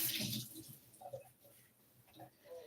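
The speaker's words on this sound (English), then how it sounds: "So wash the apple." Tap water runs over an apple being washed in a home kitchen, a brief hissing splash at the start that fades into quieter trickles and faint handling noises.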